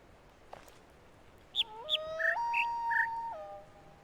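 A short chirping birdsong puzzle melody from the video game The Witness, a handful of clear whistled notes stepping up and down in a quick phrase, fairly soft, with no talking.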